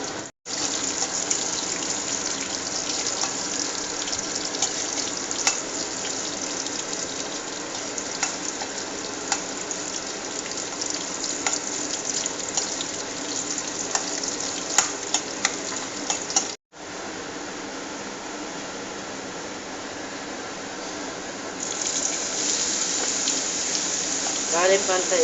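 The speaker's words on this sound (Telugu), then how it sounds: "తాలింపు దినుసులు వేస్తాం అన్నమాట ఫ్రెండ్స్" Tempering spices and garlic frying in oil, a continuous crackling sizzle with stirring clatter, briefly cut off before resuming, with a voice speaking over it at times.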